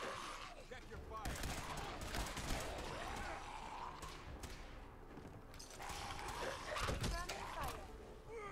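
Gunfire in the Fallout 4 game, bursts of rapid shots and heavy thuds with mechanical clanks across a busy firefight, with voices talking over parts of it.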